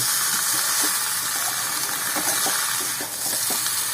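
Vegetables for Bengali shukto sautéing in a pan, a loud continuous sizzle and hiss up close, with soft scraping strokes of a spatula stirring through it.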